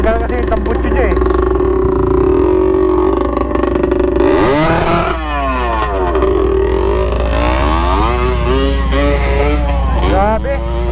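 MICROBIKE MX250 dual sport motorcycle running without its exhaust, a loud raw engine drone throughout with revs rising and falling on a hard trail ride, while people talk over it.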